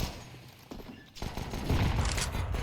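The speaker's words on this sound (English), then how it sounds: "Spam from the pistols is deceptively good, though." Rapid pistol gunfire from P250 handguns in a competitive Counter-Strike esports match, a quick spray of shots crackling loud and close with busy game noise throughout.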